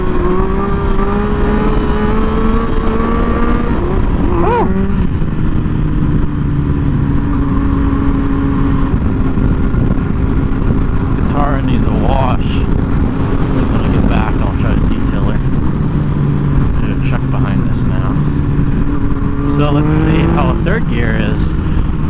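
Motorcycle engine revving hard in first gear for wheelie attempts, loud and close, with repeated throttle surges and engine pitch climbing and dropping through the run, plus brief shifts and road noise throughout.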